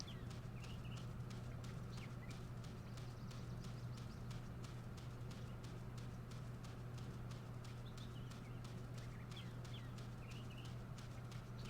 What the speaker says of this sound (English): Where are all these birds I'm hearing?